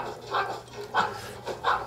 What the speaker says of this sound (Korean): 왜 짖는 것 같아요?